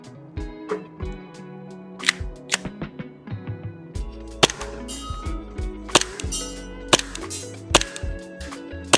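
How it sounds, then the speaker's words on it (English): VFC Walther PDP gas blowback airsoft pistol fitted with a suppressor, firing a series of sharp, irregularly spaced shots with mechanical clacks of the slide, close and fairly loud with no talking. "let's try and take a few shots to see what it feels like"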